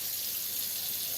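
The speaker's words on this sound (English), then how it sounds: "as I put some water in this" Steady stream of water pouring into a coffee maker, a continuous hissing splash with no pauses, moderately loud and close, with no voices.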